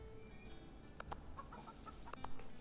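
A chicken in the chess puzzle game Chessarama gives a few soft, scattered clucks over a quiet low ambient game background, with no talk.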